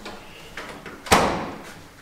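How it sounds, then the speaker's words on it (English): A school door creaks open, with one short, loud, close burst of creak and rattle that fades quickly. No one speaks. "Squeaky door."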